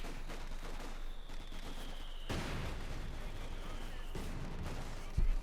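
Mortar and sapper weapons fire in a Company of Heroes 2 World War II battle, a dense steady clatter of gunfire and blasts with a sharper crack near the end, continuous throughout.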